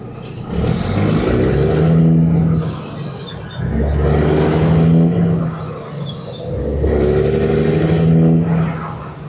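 A heavy truck hauling hot oil engages its Jake brake on a road in traffic, giving three long, loud rumbling engine blasts that swell and fade, heard close from the cab.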